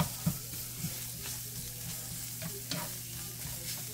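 Chopped onion fries on low heat in a pan for a weeknight dinner, giving a steady soft sizzle with a few scattered stirring clicks and pops, no talking.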